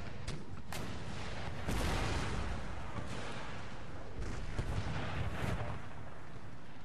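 Guns firing in battle at Little Bighorn, heard as a dense, continuous rumble of distant gunfire and booms that swells and fades, with no clear voices.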